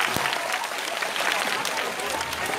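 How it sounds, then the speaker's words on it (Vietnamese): A room of listeners at a motivational talk breaks into applause, a steady clatter of many hands sustained throughout, with some chatter mixed in beneath the clapping. "Một tràng pháo tay cho câu trả lời hay."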